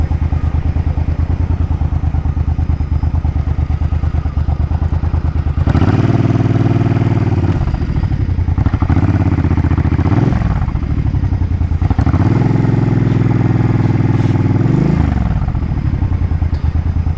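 A Suzuki Boulevard C50T cruiser with its exhaust baffles removed rumbles loudly nearby, its deep engine note swelling and easing as the rider revs through repeated throttle pulls.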